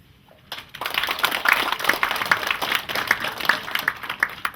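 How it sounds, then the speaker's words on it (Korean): A small audience at a literary association's poetry event gives a brief round of light clapping right after a poem is recited, a soft, scattered patter of hands lasting a few seconds. "박수를 조금 치시는 것 같아요."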